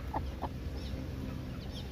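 Chickens cluck softly beside a homemade plastic-bottle feeder, a few short clucks early on over a low steady background, faint and moderately near.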